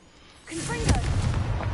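An explosive spell cast in Hogwarts Legacy strikes after a quiet start, a bright whooshing burst that swells into a booming blast with a crackling, rumbling tail.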